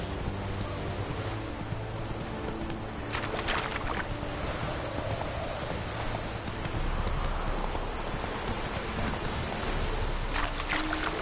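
Roach the horse galloping in The Witcher 3, a steady rhythmic clip-clop of hooves on the ground that keeps going throughout at moderate volume, with no talking.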